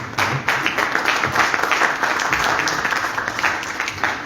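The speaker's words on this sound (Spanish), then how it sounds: "Un fuerte aplauso para Tito Valdivia." An audience at a round-table event at a faculty in Arequipa gives strong, dense applause with many hands clapping at once, sustained and fairly close throughout.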